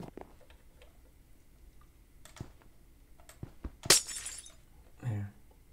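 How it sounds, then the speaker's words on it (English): Glass blocks breaking in Minecraft: a single sharp, bright shattering burst lands partway through, surrounded by soft game clicks and taps, with a voice speaking faintly. "I'm gonna break this glass."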